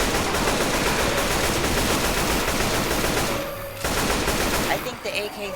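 Rapid automatic AK rifle fire in a zombie video game, dense sustained bursts that pause briefly and resume before trailing off.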